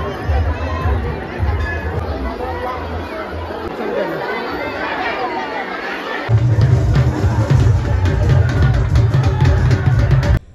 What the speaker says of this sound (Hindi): भीड़ तो है भाई साहब।